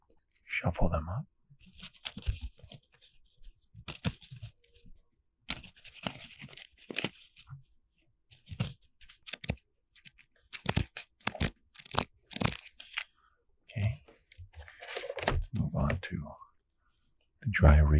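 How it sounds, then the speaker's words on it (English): Pictionary cards being shuffled in close ASMR style, a run of crisp papery flicks, riffles and crinkles with short gaps and soft whispering between them. "Shuffle them up."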